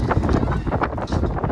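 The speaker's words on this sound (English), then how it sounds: "Oh, it's windy up here." Gusty wind buffets the microphone in loud, uneven low rumbles throughout at a high lookout in Kansas City, with no clear talking.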